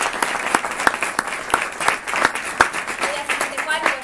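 A theatre audience at a stage play claps steadily in a full, continuous round of applause, with a voice faintly audible beneath it.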